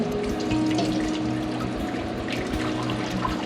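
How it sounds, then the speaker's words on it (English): Cooked elderberry mixture pours steadily through cheesecloth into a pot, a continuous liquid splashing and trickling at close range with no talking over it. "I'm going to go ahead and pour this"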